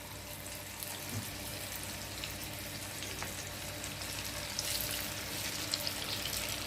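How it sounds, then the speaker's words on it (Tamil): Pieces of fish for a fish Manchurian hiss in hot oil as they deep-fry: a steady, dense sizzle with faint crackles, held at an even level throughout with no talking. "இப்போ மீதி கலந்து வச்சிருக்கிற மீனையும் எண்ணெயில் போட்டு பொரிச்சு எடுத்துக்கலாங்க."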